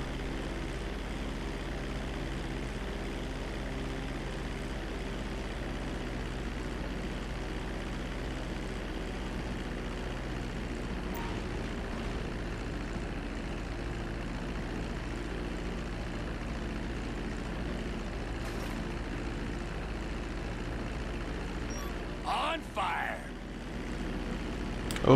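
A propeller airplane flying in the video game Grand Theft Auto 5 among big mountains, a steady droning engine hum that holds for the whole stretch, with a few brief clicks and bumps near the end.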